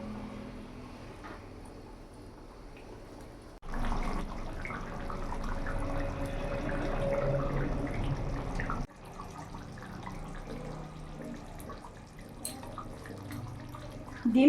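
Duck egg curry with small potatoes simmering in a pot, a steady low bubbling and watery burble that swells louder for several seconds in the middle, then settles back, with no talk.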